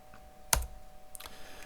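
A few keystrokes on a computer keyboard, one sharp louder click followed by a couple of softer taps, close and alone with no talking.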